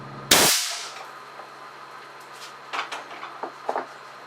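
A single sharp, loud blast as an air cannon at 325 psi fires a 180 grain .410 lead slug, followed by a decaying tail and a few faint knocks and clatters afterward.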